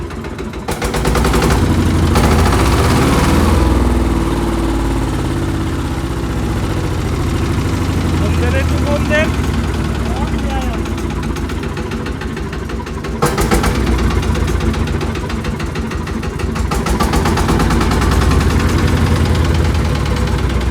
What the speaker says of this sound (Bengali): বত্রিশ ঘোড়া ইঞ্জিন আর সেই সুন্দর সাউন্ড